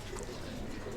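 Flying pigeons kept in a loft give a low, soft coo, faint and brief under a wash of background noise.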